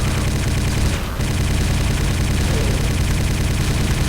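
Rapid gunfire at an ogre in the video game Quake, a dense, continuous burst of shots and explosions throughout, loud and close with no speech.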